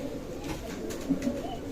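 Pakistani pigeons at a loft give low, soft cooing notes close by, with a couple of slightly louder coos near the end over faint background noise.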